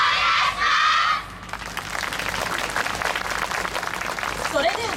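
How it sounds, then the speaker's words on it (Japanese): A yosakoi festival audience claps at an outdoor dance contest stage in Michinoku, first as a burst of applause and then as a steady, fairly distant rhythmic patter under background crowd noise and music. "お手拍子よろしくお願いします"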